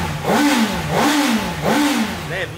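A new Honda CB1000 motorcycle engine revs three times in quick succession, each blip climbing and falling back with a deep, rumbling exhaust note, loud and close.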